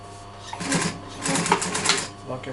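A sewing machine stitching piping while recovering a chair, running in short uneven bursts of rapid mechanical clatter, loud and close with brief pauses between runs.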